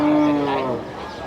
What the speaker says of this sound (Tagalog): Kaya kakaiba tong kalabaw na to.